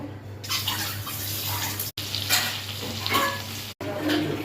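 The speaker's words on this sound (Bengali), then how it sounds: "এবারে ডিম ভাজবো।" Eggs fry in a hot pan for an egg and prawn biryani, producing a loud, close, wet sizzle and spatter that runs steadily, broken by two abrupt cuts, with no talking.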